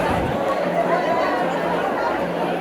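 A packed darshan queue at the Aai Ekveera temple, with a thick, steady hubbub of many voices talking at once, loud and close throughout.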